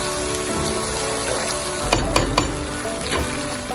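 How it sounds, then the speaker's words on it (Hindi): Cumin seeds sizzle and crackle in hot oil in a pan, a steady frying hiss with a few sharper pops close by. "1 टीस्पून जीरा ऐड कर देंगे और इसको 2 से 3 मिनट तक हम"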